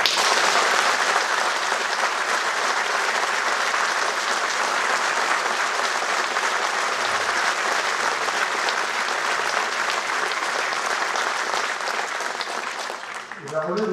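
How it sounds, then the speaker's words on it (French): Sustained, loud audience applause fills a New Year wishes ceremony hall, a dense, steady roar of many hands clapping that carries on for well over ten seconds before tapering slightly at the end. "Respect à vous et là aussi un tonnerre d'applaudissements"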